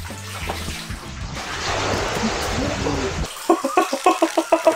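Cold water splashing and churning as someone wades into it inside a giant hamster ball, a steady rushing wash followed by rhythmic sloshing pulses near the end.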